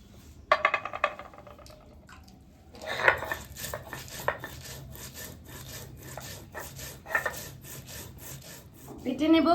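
Ginger, cumin and green chilli being ground to a paste by hand: quiet rhythmic scraping and rubbing strokes of stone against stone, bursts of rasping friction separated by short pauses, growing denser and louder toward the end.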